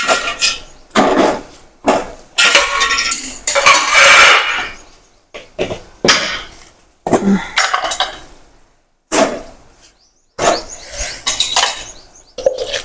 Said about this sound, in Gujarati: હવે આપણે તેમાં મસાલા નાખી દઈશું